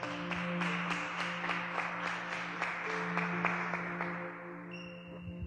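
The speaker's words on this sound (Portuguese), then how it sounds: "Aplauda ao Senhor" A church congregation claps along in steady, evenly spaced beats for several seconds, with sustained organ or keyboard tones holding underneath.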